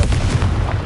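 A Confringo explosive spell in Hogwarts Legacy sets off a loud, close booming blast, a dense burst of low rumble and crackle with a couple of sharp pops inside it.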